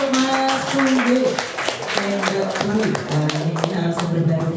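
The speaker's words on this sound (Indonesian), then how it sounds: "Tepuk tangan dulu untuk Mas Teguh" Audience clapping for a guest speaker at a teachers' curriculum training session at a junior high school in Surakarta, a steady patter of hand claps running throughout with background chatter and tonal sounds underneath.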